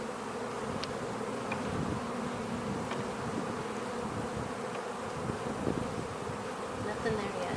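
Honeybees swarm around an open hive frame full of nectar, a dense continuous buzzing hum close by with individual bees zipping past, steady throughout with no talk.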